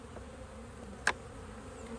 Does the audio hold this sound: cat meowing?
no